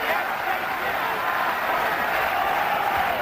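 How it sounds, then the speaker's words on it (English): Arena crowd at the Vitali Klitschko vs Obed Sullivan heavyweight boxing fight, a continuous loud roar of cheering spectators filling the whole stretch, with a commentator's voice running over it. "The crowd again getting into it."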